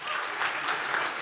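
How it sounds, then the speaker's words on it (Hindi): An audience at a public event on menstrual awareness breaks into full, even applause, a continuous wash of many hands clapping at close range, with no speech over it. "जोरदार तालियां इनके लिए।"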